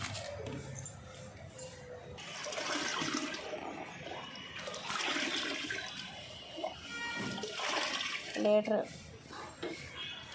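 Water mixed with waste decomposer liquid is poured onto garden plants, with gushing, splashing bursts that rise and fall in several surges and a voice talking over them.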